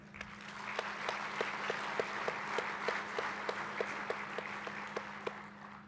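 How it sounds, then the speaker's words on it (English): Audience applause at an energy summit, a steady round of clapping from a moderately sized crowd heard at a distance with sharp individual claps standing out, sustained for several seconds. "we need to give a round of applause for Travis Campbell"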